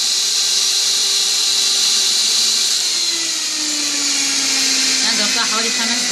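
An electric mixer whips Chantilly cream, a loud, continuous motorized whir with a steady high buzz whose pitch slowly drifts lower as the cream thickens, heard close and without interruption.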